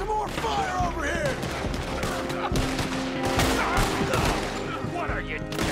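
A Red Dead Redemption 2 shootout crackles with repeated gunshots and scattered volleys, sharp cracks overlapping at varying distances, while voices shout over the fight throughout.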